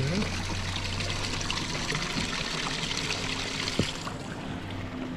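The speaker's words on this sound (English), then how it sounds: "there's all these little openings in the building where spring water flourishes forth" Spring water trickles from small openings in an old stone building in Gjirokaster, Albania, a soft continuous splashing and dribbling under a steady low hum, with a faint brief knock partway through.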